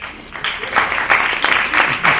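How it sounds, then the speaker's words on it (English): A comedy club audience claps as a comedian is called to the stage, producing a moderately loud, continuous patter of applause that swells in waves over about two seconds. "Come on up, bro. Clap it."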